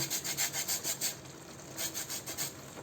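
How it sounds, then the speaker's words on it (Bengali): Lemon peel is rubbed against a grater for chicken kabsa biryani, giving a faint, soft rasping in a quick rhythmic series of strokes, with a short pause midway before the scraping resumes. "এবার দিব লেবু লেবুর খোসাটাকে আমি জাস্ট একটু ঘষে দিয়ে দিব"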